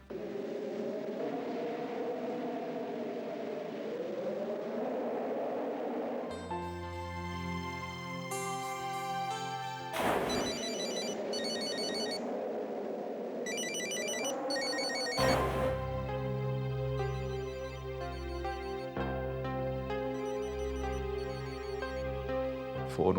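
A phone's ringback tone sounds on an outgoing call, a melodic electronic pattern that repeats steadily and fills the scene with no talking over it.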